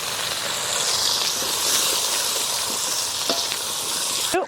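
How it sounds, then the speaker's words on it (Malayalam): Two handfuls of small shallots dropped into hot oil in a pan, a loud steady close sizzle with faint stirring scrapes and a clank at the end. "ചെറിയ ഉള്ളി രണ്ട് പിടി അപ്പോൾ നമുക്ക് അതങ്ങോട്ട് ഇട്ട് കൊടുക്കാം"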